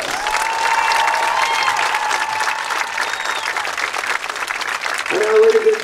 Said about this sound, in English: Let us give all our veterans a huge round of applause.